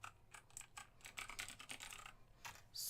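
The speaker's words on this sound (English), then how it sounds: "Just type it in." Quick, soft keystrokes tap out on a computer keyboard in an uneven burst of clicks, close and quiet, with no voices.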